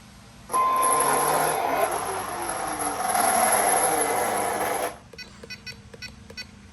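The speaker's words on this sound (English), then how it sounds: "There's the gear sound." A radio-controlled car's drivetrain gears make a steady mechanical whir with a high whine for several seconds, then cut off, leaving faint clicking and rattling.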